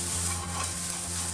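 Green peas and bean sprouts cooking in a pan, a steady close sizzle and frying hiss with soft stirring scrapes running without a break.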